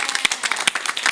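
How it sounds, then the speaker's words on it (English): A small room of people at a Racing for Recovery meeting claps, a short burst of close, crisp individual hand claps rather than a large roaring crowd. "if we could give a round of applause for our IT"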